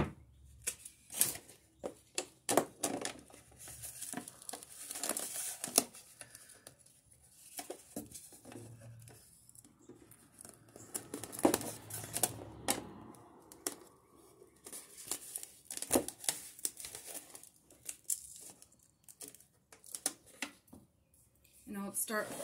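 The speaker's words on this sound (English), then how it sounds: "Now I have my duct tape and I'm going to duct tape them shut." Duct tape is pulled and pressed to seal the cut plastic milk jugs shut for winter sowing, with intermittent ripping, crinkling plastic and tapping handling noises, close and fairly quiet, alongside occasional speech.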